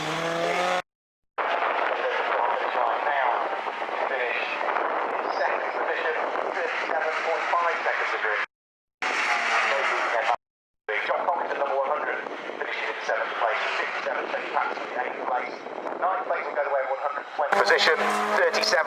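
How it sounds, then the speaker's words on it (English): A Ford RS200 race car at Snetterton during a CSCC Special Saloons and Modsports race. A steady engine roar runs almost throughout, with a few brief gaps, beneath continuous commentary. "So here comes Wayne Crabtree at the wheel of that Ford RS200."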